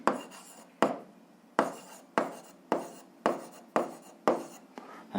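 An algebra equation is written by hand in a quiet room, with about eight short, sharp scratching strokes at an uneven pace, each fading quickly, heard close and alone.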